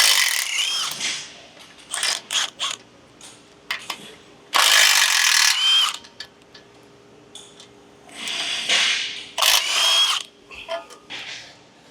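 Hand and power tools work loose the lower ball joint on a Toyota Tacoma, with sharp ratcheting clicks and short whirring bursts coming in irregular spurts separated by quiet pauses.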